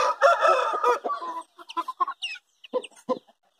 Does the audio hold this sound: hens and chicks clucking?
yes